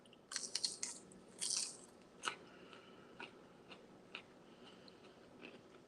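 Crunchy homemade baked cottage cheese chips bitten and chewed up close, a few crisp snapping bites followed by quieter crunching chews, with no talking.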